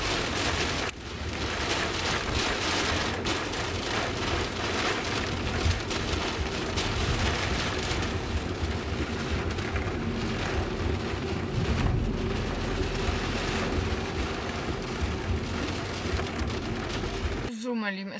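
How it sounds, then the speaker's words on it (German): Heavy rain pours down on a car in a dense, constant hiss and patter that never lets up, with voices now and then beneath the downpour. "Meine Lieben, es regnet wie aus Eimer, habt ihr gesehen."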